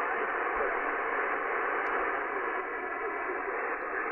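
Steady hiss of radio static from a Yaesu FTdx-10 ham transceiver with its noise blanker switched on, a continuous even wash of noise with a faint blip or two, no voices.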